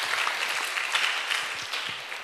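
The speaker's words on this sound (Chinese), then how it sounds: "来掌声鼓励啊！" Applause from an audience at a Buddhist Dharma talk, a steady dense patter of many hands clapping for a couple of seconds with no voices over it.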